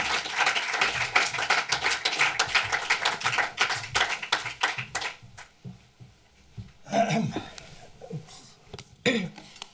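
Audience applause at a German film screening and talk as a guest walks to the front, dense clapping for about five seconds that thins into scattered claps, coughs and murmurs, with a brief burst of clapping near the end.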